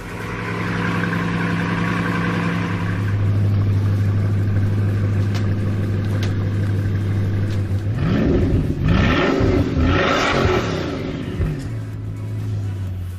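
A Ferrari 6.5-litre V12 engine idles with a steady hum, then revs sharply several times, the pitch climbing and falling in quick, loud bursts.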